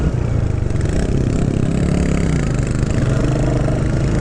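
A Royal Enfield Hunter 350 motorcycle's single-cylinder engine runs steadily and loudly up close, a continuous throbbing rumble as the bike pulls away, with no pauses or talk.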